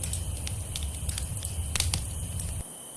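A late-night campfire gives off sparse, sharp crackles and pops over a steady hiss, fairly close and alone, ending abruptly.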